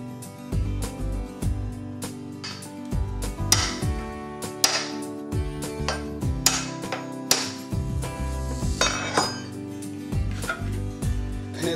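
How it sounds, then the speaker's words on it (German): A knife blade strikes a whole coconut with firm, repeated blows all around its shell to crack it open, giving a steady run of sharp knocking taps with a brief burst of louder hits. "Wir schlagen das jetzt rundum mit festen Schlägen an und dann müsst ihr auseinanderbrechen."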